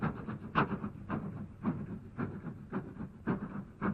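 A passenger train running along the rails, its steady rumble carrying a repeating rhythmic clatter of wheels over track joints, continuous and fairly close with no talk over it.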